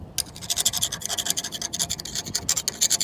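Harsh, rhythmic scraping from a dry truck fifth wheel coupling, a rapid series of loud close grinding strokes with no voices.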